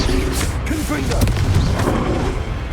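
A Confringo fire spell is cast in the Hogwarts Legacy video game and explodes in a deep, booming blast. A dense rumble of combat runs throughout, with a voice calling out over the din.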